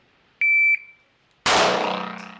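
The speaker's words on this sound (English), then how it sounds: "One shot on the beep." A shot timer on a firearms range gives a short, loud electronic beep, followed about a second later by a sharp, loud gunshot with a ringing decay; no talking.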